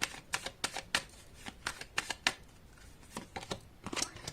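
Tarot cards riffled and flicked close by in quick bursts of crisp papery snaps, a rapid uneven rhythm with short gaps between shuffles, with no talking.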